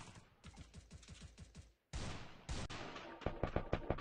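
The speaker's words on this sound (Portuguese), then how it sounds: "ele atira de longe" Rapid gunfire in a video game, with a tight burst of evenly spaced shots, a short pause, then further volleys and quick clustered shots, fairly quiet overall with no voices.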